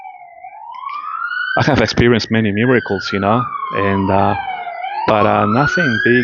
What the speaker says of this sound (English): Sorry about the sirens just going past.